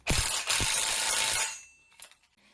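A ratcheting wrench tightens bolts on the base of a Full Tilt Chuck Rack, making a close, rapid clicking run for about a second and a half, then a few lighter metallic knocks.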